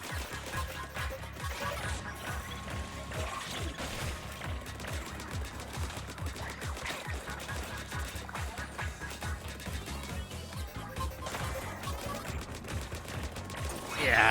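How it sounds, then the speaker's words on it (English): Dense, rapid game weapon fire from Splatoon 3, a steady stream of sharp shots and impacts that runs almost without break, with a louder burst at the very end. "I just shot that spinning shell into the enemy and into the portal, and it did a lot of damage"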